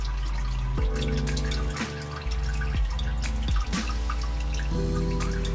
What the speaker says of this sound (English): Let that drain out.